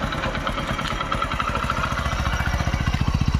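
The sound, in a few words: Hero HF Deluxe 2015 motorcycle engine running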